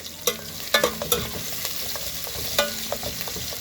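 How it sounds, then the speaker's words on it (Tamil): Fenugreek seeds and garlic sautéing in hot oil in a pan for a sheela fish curry: a steady close sizzle broken by repeated sharp scraping taps of a ladle stirring against the pan. "கொஞ்சம் வதங்கட்டும். வெந்தயம் 2 வெந்தயம் சேர்த்துருக்காங்க."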